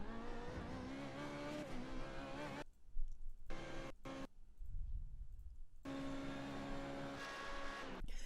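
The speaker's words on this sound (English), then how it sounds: "Now I need to accelerate the car, and I want the second gear to be a little bit more gentle on the acceleration." Engine of an F3.5 race car at Sebring in the iRacing sim, a high revving drone that cuts out mid-clip with short blips, then climbs again as the car accelerates, fairly close and steady.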